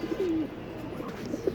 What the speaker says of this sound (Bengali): এখানে আজকে কবুতর ছাড়বো